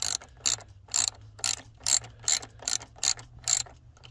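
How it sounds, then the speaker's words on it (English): A hand ratchet clicks in a steady rhythm while tightening a fastener on a Challenger RT, about eight sharp close bursts spaced roughly half a second apart over a low hum. "So I'm about to tighten this down"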